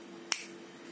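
One crisp finger snap, close and sharp, alone in a quiet room.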